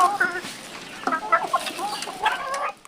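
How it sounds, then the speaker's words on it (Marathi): Chickens cluck close by at a poultry farm in short, uneven bursts of throaty calls, a few overlapping, with a soft murmur of background noise. "ही कोंबडी बघा"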